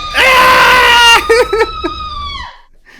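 Female teacher character in a prank-themed video game yelling in a shrill, sustained scream that breaks into short wavering cries and then fades out, loud and close.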